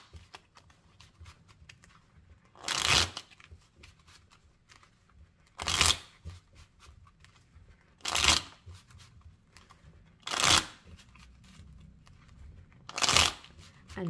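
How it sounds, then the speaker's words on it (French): A Rider-Waite tarot deck is shuffled in five short, crisp riffling bursts spaced a few seconds apart, close and fairly soft, with quiet pauses between and no talking. "Je tire 4 cartes pour vous, les vierges."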